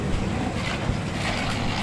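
Strong outdoor wind roars and buffets the microphone in a continuous, loud rumble with no clear breaks.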